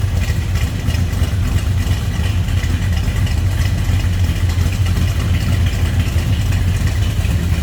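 A 1968 Dodge Dart GTS with its 340 V8 runs at a loud, rumbling, steady idle, heard up close without a break and with no talk.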